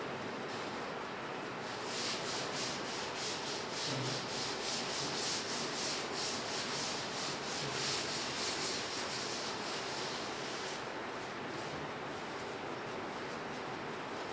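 A duster wipes a classroom blackboard in a steady, close, continuous scrubbing rasp with a fast back-and-forth pulse, lasting many seconds with no talking.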